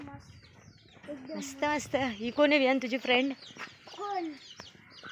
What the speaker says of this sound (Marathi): चिकन आहे आणि तिचे छोटेसे चिक्स, कोंबडीची पिल्ल.